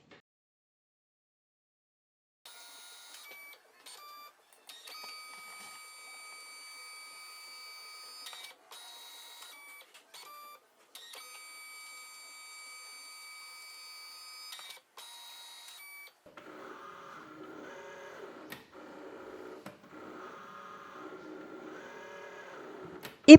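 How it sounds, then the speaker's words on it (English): A LIENE PixCut S1 print-and-cut machine makes stickers. A steady tonal whine with brief pauses marks the printing, then it shifts to a lower, pulsing mechanical hum during cutting and ends on a sharp click. "It printed very quickly and now it's cutting."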